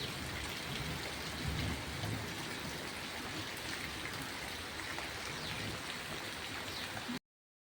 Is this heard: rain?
yes